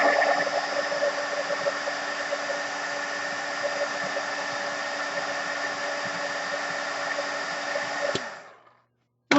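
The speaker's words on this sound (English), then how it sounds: "I heated it until it flattened back out all on its own" Heat tool blowing hot air over a paper card to dry it: a steady, loud whooshing drone with a motor hum holds for about eight seconds, then a click as it switches off and winds down to silence.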